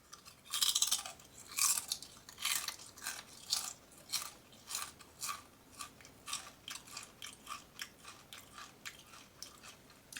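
Siete vegan queso-flavoured kettle chips crunch in close, loud bites followed by rhythmic chewing that gradually softens, with no talking.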